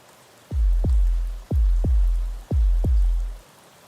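Steady rain hisses in the background, broken by six deep, booming thuds that arrive in evenly spaced pairs.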